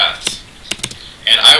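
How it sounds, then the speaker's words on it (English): Quick bursts of computer keyboard typing as real estate search criteria are entered into an MLS portal, a few separate clacks followed by a denser run of keystrokes, close and clear. "And I always type in just basically what the criteria is."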